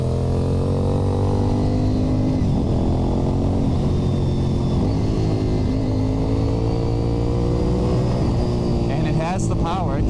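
Honda RC51 1000 cc V-twin sport motorcycle engine revving steadily while being ridden, a loud continuous drone with rising and falling pitch through shifts, with muffled speech running underneath throughout.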